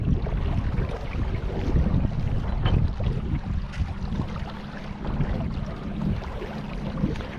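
Strong wind buffeting the microphone during a boat ride on the water at Hoover Dam, a continuous loud rushing roar with gusty swells and no talking.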